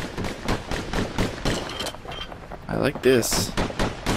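Rapid slinger pistol shots in the video game Bastion crack through a busy mix of game sound and talk, with a cluster of sharp bursts near the end.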